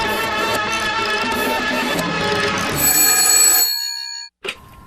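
A telephone rings loudly and continuously with a bright, bell-like tone, then cuts off abruptly near the end and is followed by a short click.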